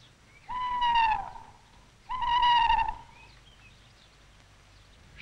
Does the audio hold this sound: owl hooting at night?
yes